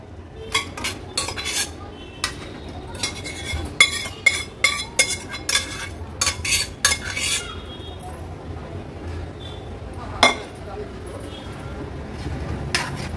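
Cooked mutton is spooned into a kadhai with repeated metal clinks and scrapes of a spoon against the pan, irregular and close, fading to quieter handling toward the end.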